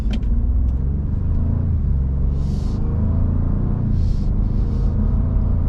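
Ford F-150 Tremor pickup pulling away onto the road, a deep steady engine rumble close by with a few brief hissing bursts over it.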